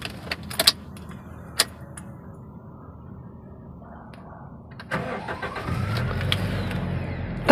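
A 2005 Toyota Kijang Innova G with a 2.0-litre petrol engine and manual gearbox, immobilizer fitted, cranks and fires up after a rattle of keys, then settles into a steady, fairly loud idle.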